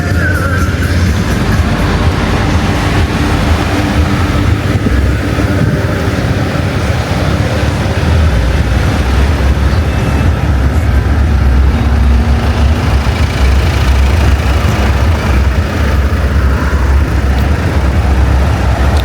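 Dense summer traffic jam in Moscow, with cars and trucks idling and creeping along; a loud, continuous wash of engine rumble and road noise with no distinct breaks.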